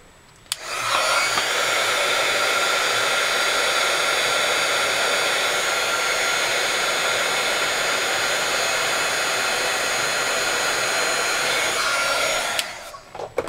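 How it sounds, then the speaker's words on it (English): Heat embossing tool blowing a steady, loud stream of hot air across a Christmas card for about twelve seconds, a constant hair-dryer-like whoosh that switches on and off abruptly, with no talking. "we'll grab the heat tool and finish up this card"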